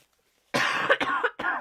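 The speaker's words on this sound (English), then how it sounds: "that's not a very bad cough anymore" An adult coughs three times in quick succession, close and loud after a moment of silence, each cough harsh and separated by a brief gap.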